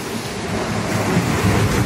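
Ocean waves crashing on a coast in Cavite, a steady loud roar of surf and churning water filling the whole stretch, close by with no voices.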